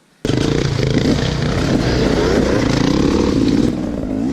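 A 2018 Beta 300RR Race Edition two-stroke motorcycle bursts into loud, close engine noise, revving and riding hard with a raspy, sustained drone that holds strong for several seconds.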